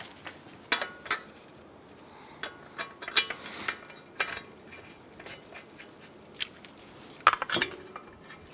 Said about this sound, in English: Put your wheel back on. And start your lug nuts.